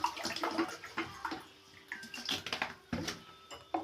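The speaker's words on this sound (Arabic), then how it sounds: "دي كوبايه ميه للدجه، وهحط نص الكوبايه خل." Water and vinegar poured into a pan for Egyptian koshari sauce, with splashy bursts of liquid and gurgling at close range, interrupted by a few sharp clinks of utensils.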